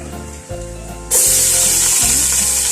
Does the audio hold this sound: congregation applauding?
no